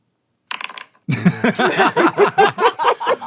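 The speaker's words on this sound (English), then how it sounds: "using a dice rolling app that comes packaged with sound effects" A dice-rolling app plays its sound effect during a tabletop role-playing game: a short clatter, a brief pause, then a rhythmic run of rattling tumbles, close and clear.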